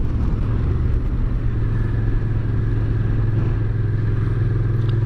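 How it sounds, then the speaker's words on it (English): A Yamaha TDM900 motorcycle with exhaust baffles fitted runs steadily on the road, a close, even low engine drone with wind rumble and slight clatter throughout, no talking. "this bike is running so much smoother with the baffles in"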